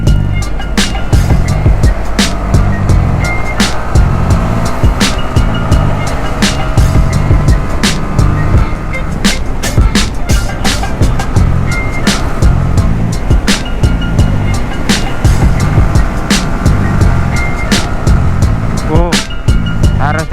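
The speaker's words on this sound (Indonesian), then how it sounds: "Kita pure dengerin si mesin aja." A motorcycle engine running on the road after an engine overhaul, a steady continuous drone mixed with strong wind rush and road noise throughout.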